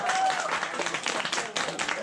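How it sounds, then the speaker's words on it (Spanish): A crowd applauds a story at an outdoor community gathering in a rural village, a dense patter of clapping hands that runs steadily for a couple of seconds with voices mixed in. "el aplauso por la historia número 1"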